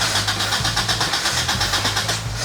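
Acura Integra engine cranking and trying to catch, a steady rhythmic low chug of the starter turning over repeatedly without firing, close and loud with no talking.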